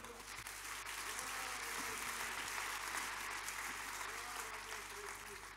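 A church congregation breaks into sustained applause during a sermon, a dense, even wash of clapping from many hands that fills the whole stretch, somewhat distant and steady.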